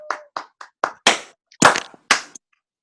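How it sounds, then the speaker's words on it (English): A few people clap separately in a video conference call, a handful of distinct slaps followed by three louder, longer bursts of clapping, close and clear with no talk. "somebody give me a round of applause for what I just talked to y'all about"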